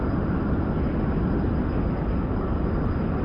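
Constant dense roar of an F-100D jet engine running on afterburner after takeoff, a loud broadband rumble that stays steady for the whole stretch with no talk over it.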